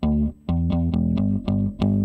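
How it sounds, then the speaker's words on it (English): Bass guitar from a live location recording, taken direct out of the back of the amp, plays a run of about eight plucked notes with a sharp pick attack on each, deep and sustained, alone with no voices. "The bass was recorded direct,"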